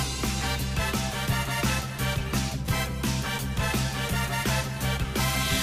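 Main menu music from the Wii version of Go Vacation plays alone, a dense, bright, upbeat tune with steady bouncy percussion and bass.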